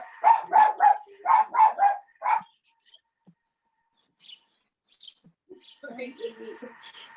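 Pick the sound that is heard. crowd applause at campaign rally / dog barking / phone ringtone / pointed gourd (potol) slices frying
dog barking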